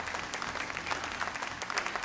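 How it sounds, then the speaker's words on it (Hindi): Audience clapping for the sponsors at an evening stage event, a fairly quiet, continuous patter of many hands with no voices over it. "मैं चाहूंगी हमारे सारे स्पॉन्सर्स के लिए भी एक बार जरा जोरदार तालियां हो जाएं।"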